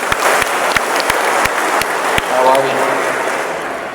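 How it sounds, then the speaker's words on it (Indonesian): Audience applause for a district Satpol PP commander at a closing ceremony in Empat Lawang, steady crowd clapping throughout with a few sharper claps standing out, fairly close and loud. "Tepuk tangan dulu untuk Pak Kasat Pol PP."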